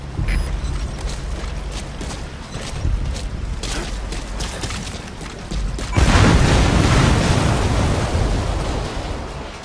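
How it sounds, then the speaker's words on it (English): Loud rumbling action in Metal Gear Solid V with thuds and clanks, then a separator tank explodes into a sustained roaring blast of noise. "Be sure to time the explosion carefully."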